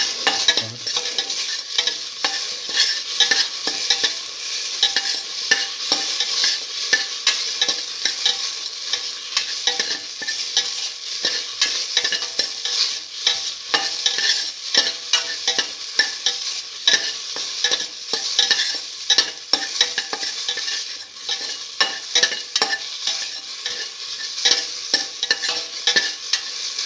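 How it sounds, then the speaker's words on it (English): Beef with tomato paste and salt sizzles in a hot pot while being stirred and sautéed, with continuous close frying hiss broken by frequent rhythmic scrapes and clacks of a utensil, and no talking. "thoroughly sauteing it."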